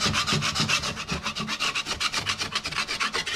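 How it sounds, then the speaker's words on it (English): A tool scrapes a plasterboard wall clean in quick, even back-and-forth strokes, a close, dry rasping rhythm with no voices. "Scrape."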